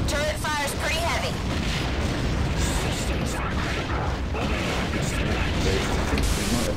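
A ship's bridge blows up during space combat in the game Wing Commander Prophecy, a loud, dense roaring rumble that keeps going for the whole stretch, with voices faintly underneath.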